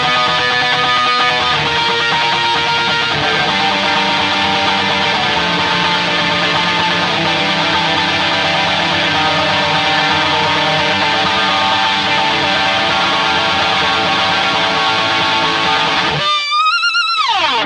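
Dense, loud overdriven electric guitar verse riff with whammy pitch effects, sustained for about sixteen seconds before dropping out briefly and returning with a rising pitch-bent swoop.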